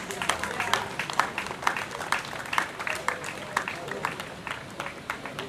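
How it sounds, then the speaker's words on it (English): An audience claps at a traditional Asante gathering at Manyhiaa, a scattered, moderately distant patter of hands that stays fairly even, with faint voices in the background. "A round of applause."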